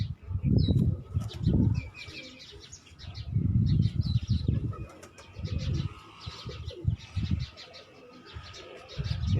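Rooftop pigeons coo in deep, repeated throaty pulses, close and loud, while wings flap in scattered bursts throughout.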